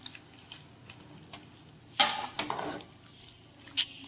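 A spoon stirring sprouted horse gram curry in a pot, with scattered light clinks and scraping knocks against the metal, a louder burst of clatter midway, close and without talk.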